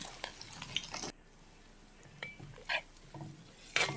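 Chopped onion, green chilli and ginger go into hot oil in a pot for a shark curry, with a spoon stirring and clinking against the pot in short bursts over a faint background.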